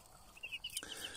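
Pekin bantam hens and their chicks give a brief burst of soft, close clucks and high chirps, quiet and over in about a second.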